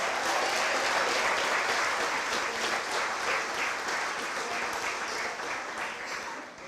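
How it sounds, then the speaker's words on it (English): Audience at a town hall meeting clapping for an office branch team, a broad sustained wash of many hands that holds strong for several seconds and then slowly tapers off. "I really want to ask you to give them another round of applause"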